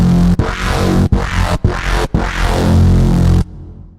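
Thick, growling dinosaur-roar bass preset from a GForce Bass Station plugin synth, played loud in four sustained, distorted bursts separated by brief gaps, with a dense buzzing low end and no voices.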